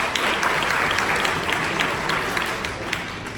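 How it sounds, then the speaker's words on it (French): Steady audience applause at a gala evening, dense clapping from a crowd filling the room at even loudness for several seconds, with faint chatter mixed in. "on applaudit très très fort"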